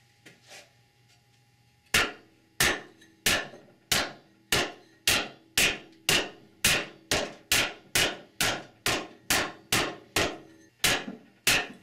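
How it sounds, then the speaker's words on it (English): Sharp, regular knocks of a section of 2x4 striking an aluminum Chrysler 46RE transmission housing to tap it free of the case, about fifteen evenly spaced loud blows after a quiet start. "section of 2x4 to tap the housing from the case."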